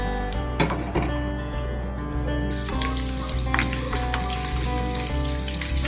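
Onion frying in ghee in a pan for mash daal tadka, a steady close sizzle with scattered crackles that grows busier partway through, with no voices.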